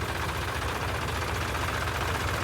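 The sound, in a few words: tractor engine idling before towing a stuck vehicle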